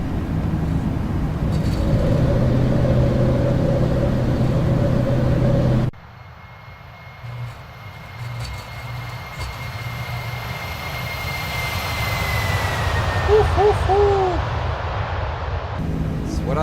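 FF767 Boeing 767 with GE engines in X-Plane 11 at KPHL, a loud continuous jet engine roar through the takeoff roll. It drops abruptly partway through, leaving a quieter hum with a faint rising whine, and a voice talks briefly.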